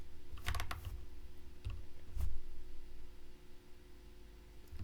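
C# code is typed on a computer keyboard while building a terminal app, with a few short bursts of soft key clatter over a steady background hiss and hum, faint and close with no talking.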